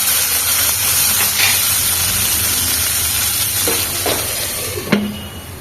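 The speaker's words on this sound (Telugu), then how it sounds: "టమాటాలు బాగా ఇలా మంచిగా మగ్గాలా, బాగా మగ్గించుకోవాలా టమాటాలు" Sliced tomatoes softening in a pan for an okra curry give off a steady soft sizzle and hiss, with a brief clink of stirring near the end and no talking.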